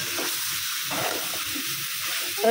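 Tomatoes sizzle as they are sautéed in a pan alongside eggplant and pointed gourd, a steady close frying hiss with soft stirring scrapes and no talking.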